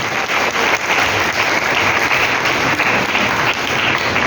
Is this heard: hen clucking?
no